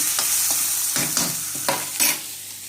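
Drumstick leaves and other ingredients being dry-roasted in a pan for drumstick leaf saaru, with a sizzling hiss broken by several distinct scraping stirs, close and steady, with no talking.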